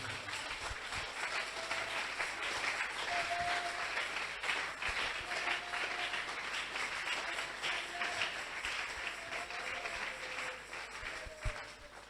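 A church congregation applauds in dense, sustained clapping that fills the space for several seconds, loud and continuous with a few scattered voices and cheers mixed in.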